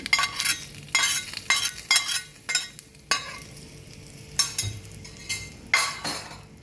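A utensil stirs coconut chutney into a dish in repeated quick scraping strokes, with bursts of friction and light clinks against the container, close and clear.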